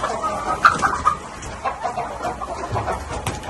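Young roosters and chickens on a poultry farm clucking and calling, irregular bird vocalizations fairly close, with a brief louder call near the start, no talk.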